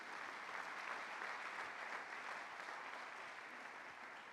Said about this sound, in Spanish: Dense un aplauso, son sumamente inteligentes.